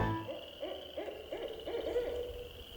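An owl hoots a series of five or six soft, rounded calls in an even rhythm, moderately close, over a faint steady outdoor hum with no voices.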